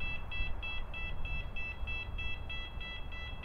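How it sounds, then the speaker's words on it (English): A security gate buzzer at an industrial yard sounds as the gates open and close, giving a steady run of rapid, evenly spaced electronic pulses over low rumbling background noise. "it sounds like there's a buzzer that goes off when the gates open and close."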